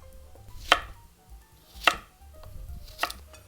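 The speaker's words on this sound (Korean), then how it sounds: "오이는 꼭지 잘라주시고 4등분 해주세요" A kitchen knife cuts a cucumber into pieces on a cutting board, with three distinct, close chops about a second apart, each a sharp knock on the board, and no voices.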